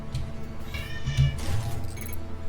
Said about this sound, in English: What's up, kitty? You've been coming around hollering your head off.